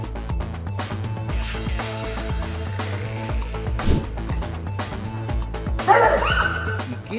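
A dog barks and yips in short bursts over background music, ending with a sharp whimpering yelp.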